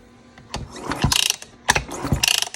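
A 1988 Honda Fourtrax 250R engine sits on a bench with its cylinder head off and is kicked over, giving two close, separate strokes of mechanical ratcheting clatter.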